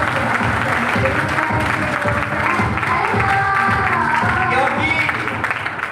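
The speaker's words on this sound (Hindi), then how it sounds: "हमारे सीएमडी सर के लिए एक जोरदार ताली" Crowd at a business meeting in Ghazipur applauds the company CMD, steady dense clapping filling the room throughout, with a speaker's voice and tonal music running over it.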